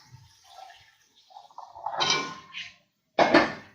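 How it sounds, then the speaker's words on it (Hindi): Boiled chickpeas tumble into masala in a cooking pot with soft clattering scrapes, followed by a sharp metallic clank of a utensil against the pot. "यहाँ पर हमने जो अपने चने बॉईल किए हैं, हम इस चनों को इसमें डाल देंगे"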